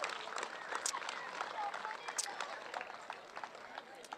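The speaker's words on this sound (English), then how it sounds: "Let's give both Plains and Pittston Township a round of applause for another great game" Crowd at a youth baseball game between Plains and Pittston Township applauding both teams, scattered clapping and cheering spread across an outdoor field, moderately loud at first and easing off, with voices mixed in.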